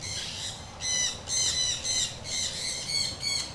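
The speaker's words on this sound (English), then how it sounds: "It's a Moluccan cockatoo." Harsh, repeated squawks from a Moluccan cockatoo at an aviary bird shop, several loud bursts in quick succession, close by and alone with no talk.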